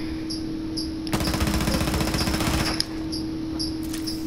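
Automatic gunfire in the Tom Clancy's Rainbow Six video game, a rapid steady burst lasting under two seconds over a constant game hum with repeating electronic beeps.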